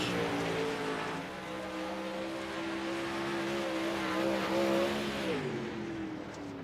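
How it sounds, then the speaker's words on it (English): The number 88 race car runs practice laps down the front stretch of a short track during winter qualifying. Its engine drones loud and steady with a sustained tone, then shifts pitch near the end as it passes. "putting some laps in that number 88. Coming down through the stretch."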